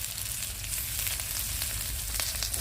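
Rohu fish fries in hot oil with a dense, steady, close sizzle that crackles without a break and no voices over it.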